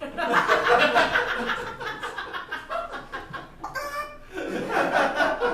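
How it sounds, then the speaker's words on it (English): Chickens clucking on a stage during a summer ballet showcase, a run of short repeated squawking calls mixed with chuckling and laughter, fairly loud throughout. "there's the chickens"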